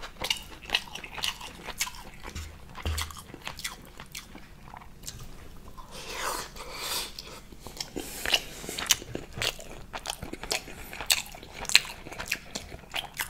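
Close-up chewing and biting of smoked salmon in a quiet room, soft moist smacks and crunches repeating irregularly, faint and intimate with no talking.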